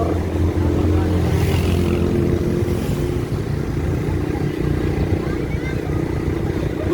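Motorcycles in the Alay Lakad procession in Antipolo rumble steadily at street level, with engine drone and clatter that continue throughout while people talk over the noise.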